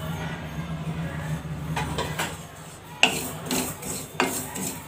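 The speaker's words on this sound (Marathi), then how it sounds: "सर्वात आधी आपण खसखस भाजून घेऊयात." Dry-roasting poppy seeds in a pan over low heat with no ghee for Indian methi ladoo, a soft rasping scrape of a spoon stirring the seeds with a few sharper clinks against the pan.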